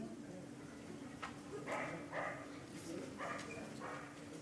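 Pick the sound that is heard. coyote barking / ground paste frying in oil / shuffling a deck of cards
coyote barking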